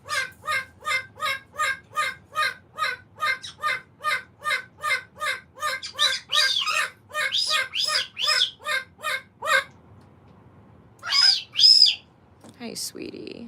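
A Victoria cockatoo repeatedly squawks and calls in a steady, loud rhythm of about twenty bursts, with brief quiet patches and a couple of sharper shrieks near the end, while a person speaks softly at times.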